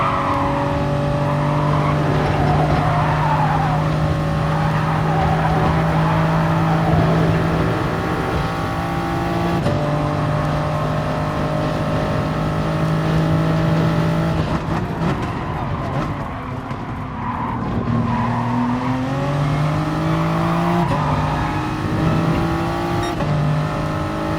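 Race cars in a racing video game drone continuously at high revs, engines rising and falling through gear shifts as several cars run close together, with an occasional tire squeal and a voice briefly talking underneath.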